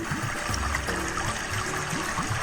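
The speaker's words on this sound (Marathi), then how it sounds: "पाण्याचा आवाज तुम्हाला येतच असेल" Water flowing and trickling steadily nearby through brush near a waterfall, a soft continuous gurgle with no voices.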